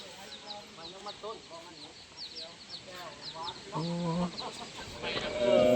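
Chickens cluck repeatedly in a remote village, close-up bursts of clucking and squawks mixed with people talking nearby.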